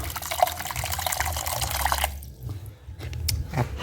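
Ordinary water pours into a car's coolant reservoir, a steady close splashing and trickling that thins out partway through into softer drips.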